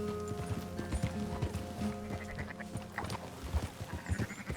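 Sheep bleat over a steady clip-clop of horse hooves during a herding ride in Red Dead Redemption 2, with game music and ambience underneath.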